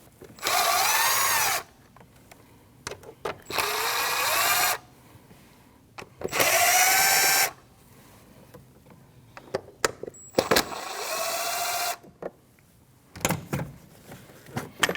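A cordless power tool whirs in four loud bursts, rising in pitch as it spins out 8mm bolts from the air cleaner box of a 2013-2019 Ford Escape 1.5L, with clicks and handling noises between runs.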